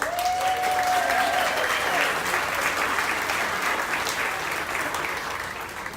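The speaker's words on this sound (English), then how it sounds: "give a big round of applause for Edelyn." Passengers at a cruise ship's Captain's Club celebration applaud a hostess, a dense sustained round of clapping that slowly tapers off, with some voices mixed in.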